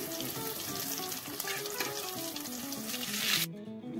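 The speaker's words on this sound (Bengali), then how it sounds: "এই ক্যাপসিকামগুলো ডিপ ফ্রাই করে নিচ্ছি।" Batter-coated capsicum deep frying in hot oil, a constant close bubbling sizzle with a faint tonal background that cuts off abruptly near the end.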